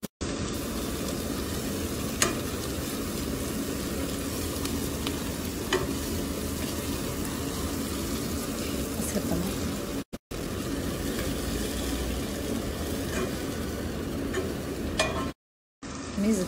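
Onion sautéing with tomato paste in a pot for meatless harira soup, a steady close sizzle with soft stirring scrapes throughout, briefly dropping out twice.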